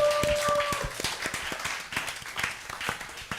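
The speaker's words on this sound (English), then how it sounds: "So a round of applause for yourselves for being here." Listeners at a dramatized literary reading in Accra give a short round of clapping, a scattered patter of individual hand claps at moderate volume, with a brief tone sounding at the very start.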